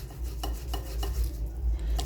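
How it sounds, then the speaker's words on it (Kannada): A potato being grated by hand in a home kitchen, a series of short rasping scrapes in an uneven rhythm, close up and moderately loud over low background hum. "ಇದನ್ನು ನಾನು ತುರಿದ್ಬಿಟ್ಟು ತೊಗೋತೀನಿ."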